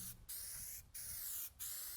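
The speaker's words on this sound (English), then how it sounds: "spraying it with primer" Spray primer hisses onto a new metal rocker panel during a DIY rust repair on a Mazda, in three close, steady bursts separated by short pauses.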